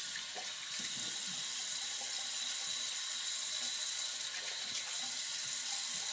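Tap water runs steadily into a sink while Tabac shaving soap is rinsed off, a constant close hiss with faint splashes and no speech.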